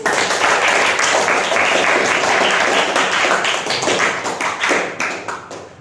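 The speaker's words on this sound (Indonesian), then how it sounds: "kelompok 2 dan kelompok 3 tepuk tangan dulu" Two groups of students in a classroom clap loudly and continuously, a dense rattle of many hands close by that keeps up strongly before tapering off into looser, more separate claps at the end.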